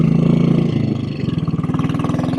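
A 1957 Royal Enfield Bullet 500 single-cylinder motorcycle in fine condition runs close by, its engine thumping in a steady low pulse that quickens into a faster, throbbing beat partway through as it is ridden and shifted.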